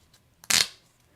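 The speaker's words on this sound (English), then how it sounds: "I got to shuffle this up" A deck of cards for the Frosthaven board game gets one quick, crisp riffle, a single sharp burst of papery rustle over a quiet room.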